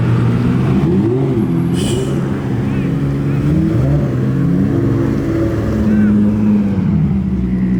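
Cars pull up at an outdoor car meet with Mustangs, an NSX and an S14 around, making a loud, continuous low engine rumble with rising and falling revs and passing exhaust tones close by.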